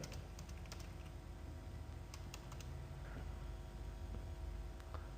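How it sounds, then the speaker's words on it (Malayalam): Keys clatter on a computer keyboard in quick, irregular bursts of clicks, faint against a low steady room hum. "ഞാൻ ഇപ്പോൾ ജസ്റ്റ് ഒന്ന് ടൈപ്പ് ചെയ്യാണ്"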